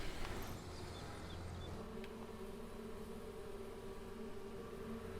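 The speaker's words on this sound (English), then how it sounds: "Oh man, you can hear those bees. They're busy at work." Bees buzz in a continuous, fairly quiet drone on a farm in Farming Simulator 22, with faint background game ambience and no talk.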